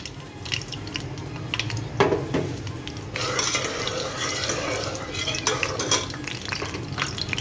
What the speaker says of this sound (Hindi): इसमें ये हम जो 1 कप ऑयल लिया था ये डाल देंगे